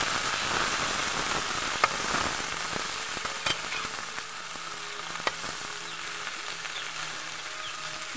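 Water spinach (kangkong) frying in a pan alongside egg, giving a steady close sizzle throughout with scattered sharp pops and crackles.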